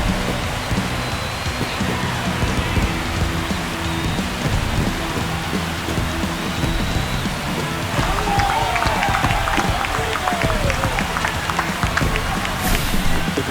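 Loud crowd roar in an MLB The Show 25 ballpark after a home run, a dense, steady wash of cheering that holds throughout with no talk over it.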